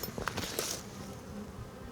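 Honey bees at an open beehive hum in a steady, close, moderately quiet buzz, with a few louder passes as individual bees fly by near the start.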